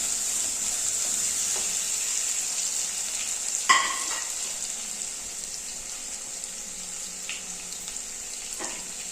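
Green chilies and curry leaves sautéing in a pan for a Kerala milk-based mackerel curry, a steady hiss of frying running throughout with a single sharp clatter of a spoon or utensil near the middle, no talking.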